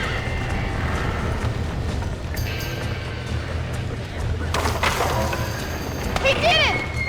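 Horses in the Red Dead Redemption Western game clop along amid busy background noise, with a brief whinny near the end, while people talk over the scene.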